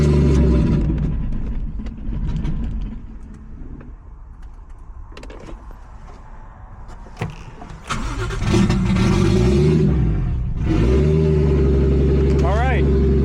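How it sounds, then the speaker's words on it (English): A Nissan G35 with a swapped 1JZ engine idles steadily and then revs higher, with shifting mechanical noise and people talking over it. "as you guys can see, the car is obviously running"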